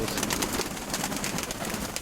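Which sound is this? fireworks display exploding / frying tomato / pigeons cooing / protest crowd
pigeons cooing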